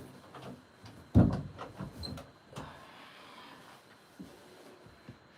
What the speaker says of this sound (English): Let me remove this thing so that this door will close.